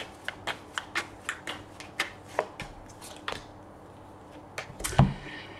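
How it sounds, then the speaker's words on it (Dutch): Tarot cards being shuffled by hand, a quick run of crisp riffling snaps and slaps, steady and close, ending in a louder flurry. "Dan de kaarten schudden om te kijken wat deze week voor jou gaat brengen."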